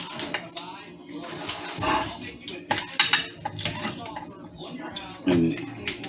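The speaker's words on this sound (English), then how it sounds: "slice that pizza" A Mexican pizza is sliced with a cutter, giving clattering scrapes and clacks against the pan in uneven bursts, with a louder scrape near the end and a voice murmuring in the background.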